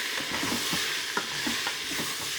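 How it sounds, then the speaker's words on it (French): Beef and onions coated in cornstarch being stirred in a hot pan for carbonade flamande, a soft continuous sizzle with faint spoon scrapes and thumps nearby, no talking. "Donc la viande avec la cuillère de maïzena. Voilà. Et on mélange le tout."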